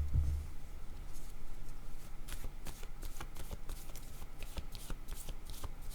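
Playing cards are handled and shuffled up close, producing a quick series of crisp flicking and riffling snaps over faint background hiss, with no voices.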